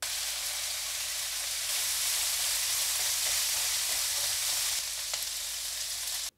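Carrots being stir-fried for yakisoba noodles, a loud continuous close-up hissing sizzle that holds steady throughout with faint stirring clicks, then cuts off abruptly.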